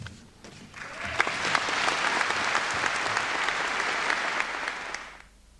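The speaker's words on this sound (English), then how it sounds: "I think the applause which has greeted Mr Austin's address perhaps makes my remarks" An audience at a university graduation ceremony bursts into sustained applause, dense clapping that swells quickly, holds steady for several seconds, then stops.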